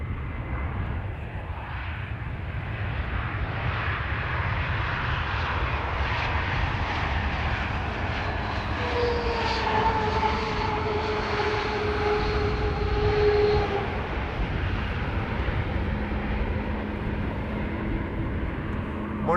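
An Airbus A321neo arriving at Amsterdam Schiphol on a cold morning gives a steady, moderately loud jet roar that holds across the whole stretch and swells slightly near the middle, with faint tonal whine riding above the rumble.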